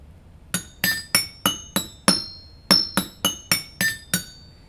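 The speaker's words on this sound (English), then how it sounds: "They used copper pipe to create a xylophone." A homemade xylophone of cut copper pipes rings out in a run of about eleven bright, chiming strikes at a steady pace, each tone clear and sustained, close and with no talking.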